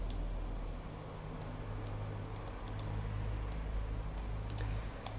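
Computer mouse clicks ring out while selecting and erasing objects in SketchUp, sharp isolated ticks coming singly and in quick pairs over a faint steady hum.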